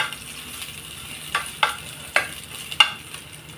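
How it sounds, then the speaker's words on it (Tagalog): Garlic sautéing in a pan until brown while cooking chicken adobo with broccoli, giving a steady close sizzle broken by several sharp clinks and scrapes of a stirring utensil. "Hinahin ko yung bawang hanggang sa magkulay brown siya."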